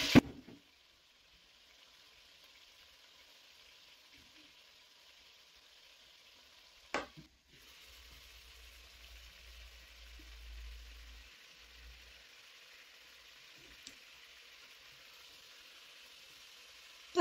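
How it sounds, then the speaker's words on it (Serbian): Chicken pieces frying in hot oil in a pot for chicken paprikash make a steady, soft sizzle, broken near the start and middle by sharp clatters of the pot, with no voices. "stavljamo meso da se prši."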